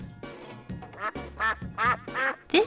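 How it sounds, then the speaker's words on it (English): A duck quacks in a quick run of loud, nasal calls, close up and alone, the bursts coming in an irregular series. "This is a duck."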